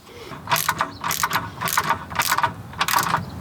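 A hand ratchet tightens the bottom end link nut on a Lexus IS300 rear suspension, clicking in five quick bursts of rapid ratcheting, close and fairly loud, with no speech.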